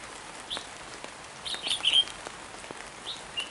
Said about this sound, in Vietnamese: Con chim ở dưới đang phơi mưa rồi.